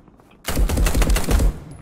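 Rapid automatic gunfire in the first-person shooter game Marauders, a dense, loud burst of shots lasting about a second, close and alone.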